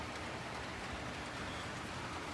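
Steady rain falls outdoors before a hurricane, a dense, even hiss of drops hitting surfaces that holds unchanged throughout with no talk.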